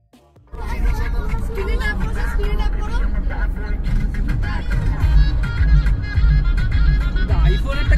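A car on a long road trip from Kolkata to Ladakh driving at normal, unhurried speed, with a steady engine and road rumble starting abruptly, and people talking over it throughout.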